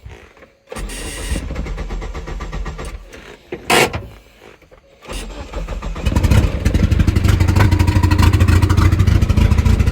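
A DSM car engine cranks in short bursts with whirring starter noises and gaps, then catches and settles into a loud, steady running rumble, close by with no talking.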